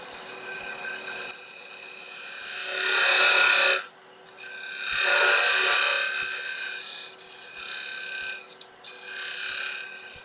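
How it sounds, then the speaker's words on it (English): Parting tool cutting into a turned wooden piece on a wood lathe, a loud rasping scrape in two long bursts broken by a brief pause, over the steady hum of the lathe. "I'm just going to mark it first with the parting tool."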